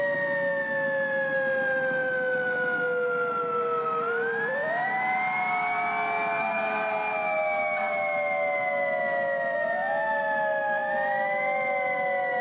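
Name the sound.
fire engine siren while following the engine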